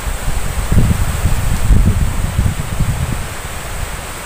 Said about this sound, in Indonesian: Kayak sing kena diketaran ini anginnya banter ki saka wit-witan.